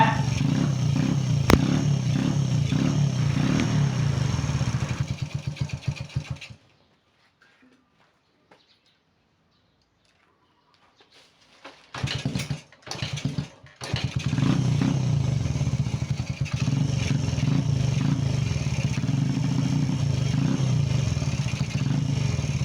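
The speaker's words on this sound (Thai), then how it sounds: "ครับทุกท่านรถติดได้ แต่ก็ถือว่าเงียบพอสมควรแต่ก็ยังมีเสียงบางอย่าง" A Honda Wave 100 motorcycle engine, a bike with a CDI ignition fault that had failed to start, runs close by in a steady low idle, cuts out into silence, then restarts with sputters and settles back into a rough, even running note.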